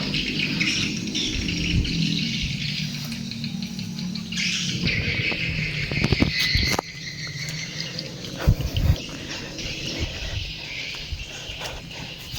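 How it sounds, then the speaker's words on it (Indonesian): Many swiftlets and other birds chirp in a simple rural village in West Java, near their nesting houses. The dense, shrill twittering and insect-like trilling are layered over steady ambient noise with occasional knocks, and no one speaks. "banyak burung yang bercuitan"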